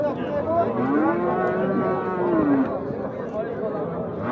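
Cattle at a livestock bazaar give a long, drawn-out moo close by, rising and falling over a background of crowd chatter and people talking.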